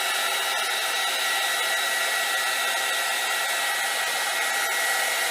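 A handheld heat tool blows hot air over a printed inkjet transparency, giving a steady, close, even whooshing roar that holds without a break and with no voices.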